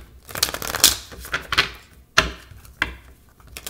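A deck of cards shuffled by hand in a few quick bursts, each a crisp riffle of flicking card edges, close and alone with short pauses between.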